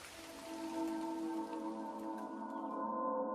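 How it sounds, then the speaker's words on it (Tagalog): Heavy rain pours steadily and loudly throughout, a dense continuous hiss with a sustained tonal drone layered over it. "Lumalakas na ang ulan."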